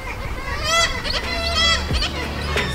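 Seabirds at a puffin colony in Iceland call in a dense, raucous chorus of overlapping cries, close and loud against steady wind.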